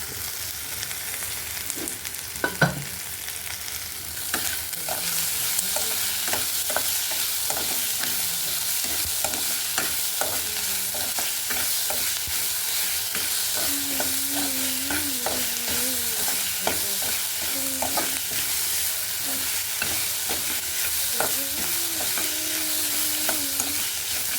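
Salted gravy base for an egg capsicum side dish sautés in a pan, a constant close sizzle with frequent rhythmic stirring scrapes and occasional clinks over a long stretch, without speech.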